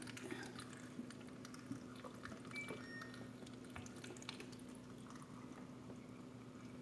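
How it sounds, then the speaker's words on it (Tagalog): Water poured into a cucumber smoothie in a blender jug makes a steady, continuous liquid wash with a low hum underneath and no talking. "Lagyan natin siyang tubig."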